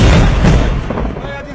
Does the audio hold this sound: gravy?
no